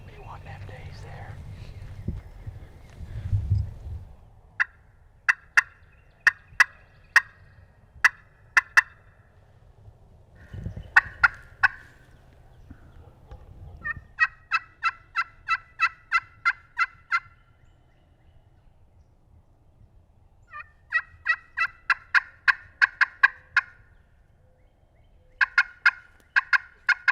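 Wild turkeys gobble repeatedly in southern woods, several separate bursts of quick rattling notes at moderate distance, with soft whispering and handling noise between them.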